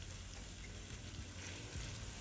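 Chopped tomatoes cook in a karahi for a highway-style chicken karahi, producing a faint, even, continuous sizzle with no distinct stirring strokes and no voices.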